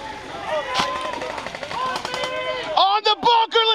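Airsoft guns crackle in rapid bursts during a 700-player airsoft game, sharp snaps mixed with shouting players and a bright chirping tone near the end.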